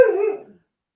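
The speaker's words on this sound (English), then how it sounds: "pardon my dog" A single close, sharp dog bark rings out and fades within about half a second, leaving silence.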